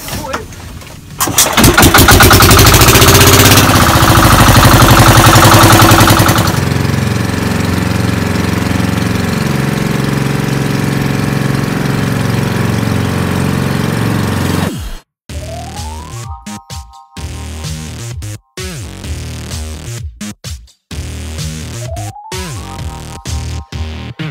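A boat engine cranks and roars loudly for several seconds, then settles into a steady running drone, with intermittent clattering and tonal beeps later.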